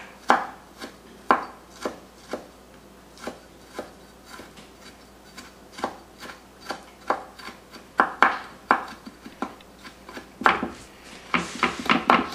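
A knife mincing ginger on a cutting board, with steady rhythmic chops knocking close and crisp for the whole stretch and growing quicker toward the end.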